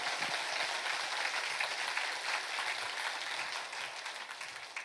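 A church congregation clapping in praise during a sermon, a soft, distant patter of many hands that stays even and fades slightly toward the end.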